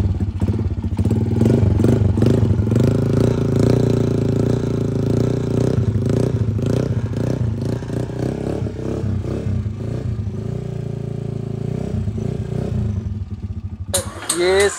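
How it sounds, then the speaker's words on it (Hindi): Motorcycle fitted with an aftermarket silencer, its engine running steadily and loudly for most of the clip with a low, throbbing tone, then a brief rev near the end. "आपको साउंड भी चेक करवाता हूं मैं स्टार्ट करें जरा एसी का सिलेंसर लगाया"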